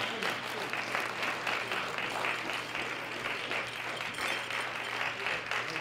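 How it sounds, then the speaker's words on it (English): A crowd applauds winners at a powerlifting championship, dense clapping at moderate distance holding steady throughout. "A round of applause for our three winners."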